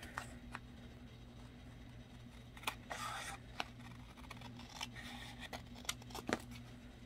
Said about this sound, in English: I'm just going to very carefully trim around it without cutting into my flaps